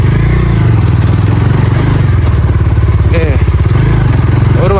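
A motorcycle runs loud and close along an off-road village trail, its engine droning steadily with a rumbling throb and some clatter, while voices talk over it.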